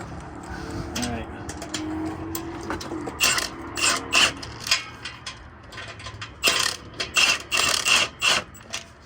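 A wrench tightening an exhaust bolt on a 2017 Ford F150 Platinum EcoBoost, a run of quick metallic ratcheting clicks in short bursts, close by, with brief talk near the start.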